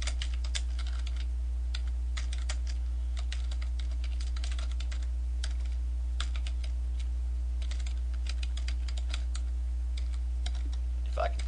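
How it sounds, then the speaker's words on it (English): Rapid typing on a computer keyboard, a continuous patter of light key clicks over a steady low hum, close and fairly faint throughout. "If I can type."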